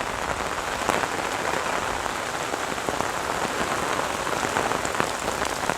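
Heavy monsoon rain pours down on a village road beside crop fields, a dense, steady hiss of drops hitting surfaces that stays loud and unbroken throughout.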